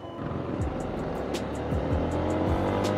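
A Yamaha Sniper 150 motorcycle engine drones steadily while riding through city streets, a close, continuous rumble with rising and falling pitch and faint ticking above it.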